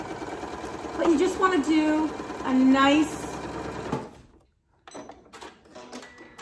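Janome Memory Craft MC9450 sewing machine stitching fabric for a face mask, a steady mechanical whir running close under someone talking for about four seconds, then short bursts of stitching after a brief pause.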